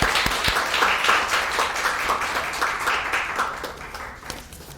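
A church congregation at a founding-anniversary worship service applauds, a dense wash of many hands clapping with some distinct nearby claps, gradually tapering off toward the end.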